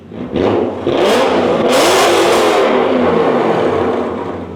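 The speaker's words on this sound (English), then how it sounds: "give it some revs, Rich" A straight-piped BMW M5 engine revs hard and roars continuously for several seconds, raw and throaty, with a rising and falling rasp, no voices.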